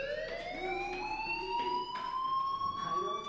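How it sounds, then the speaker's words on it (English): Fire alarm in the video game Life is Strange, sounding as a steady, continuous electronic tone with high harmonics that rings loudly and without pause throughout. "do you hear that fire alarm? That means you should be outside."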